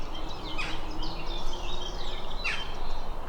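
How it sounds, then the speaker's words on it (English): Several faint bird chirps and short calls rise over a steady outdoor background hum, scattered irregularly across a few seconds. "listen to the birds"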